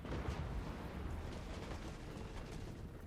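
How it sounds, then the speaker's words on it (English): Cannons and organ guns fire in a Total War: Warhammer 2 battle against Beastmen infantry, a dense continuous barrage of booming blasts and rumbling impacts layered into a steady roar. "Already the cannons and organ guns just tearing through their infantry."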